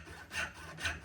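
A premium dovetail hand saw cuts wood in two rasping strokes, each a swelling breathy scrape, close and fairly quiet.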